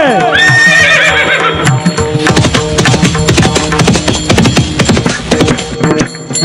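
Horse neighs and whinnies over clip-clopping hoofbeats, loud and continuous with dense music-like layering, in a dramatic Marathi powada performance setting.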